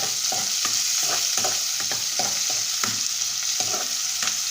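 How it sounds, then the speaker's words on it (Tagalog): Garlic and onion sautéed for adobong sitaw, a steady hot sizzle with rhythmic spatula stirring strokes scraping the pan, close up and continuous with no voices. "nagigisa ng bawang sibuyas"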